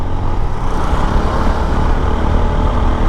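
A motorbike ridden over a broken, potholed road in hot, dusty conditions, heard as a steady, loud, close engine drone and road rumble with constant low-end noise and no voices.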